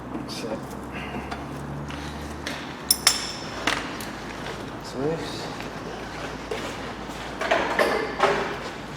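Hammer tapping a bolt through a Peugeot 407 lower suspension ball joint, a handful of sharp metallic knocks, some grouped, mixed with workshop clatter and someone talking nearby.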